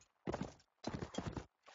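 Hooves clop in quick rhythmic bursts in a video game, a few short clusters of hoofbeats separated by brief silences, fairly faint.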